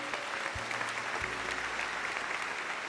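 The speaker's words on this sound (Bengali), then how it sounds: "জোরে একটা হাততালি হয়ে যাক।" Loud, steady applause from a studio audience on a Bengali family game show fills all three seconds, a dense wash of many hands clapping with no talk over it.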